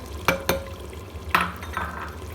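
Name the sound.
stirring chicken korma with spices in pot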